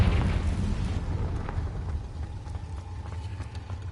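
A Confringo blasting spell goes off in Hogwarts Legacy: a heavy low boom at the start that rumbles and decays, followed by scattered small crackles and pops as debris settles.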